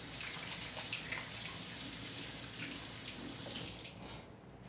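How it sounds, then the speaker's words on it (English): Hands washed under a running kitchen tap while making Dominican meatballs, a steady close rush of water with splashing that fades out at the end, no talking. "let me wash my hands off."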